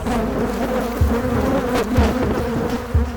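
A dense swarm of thousands of bees pouring out of a colony buzzes steadily and loudly, the drone swelling slightly at moments, with no voices present.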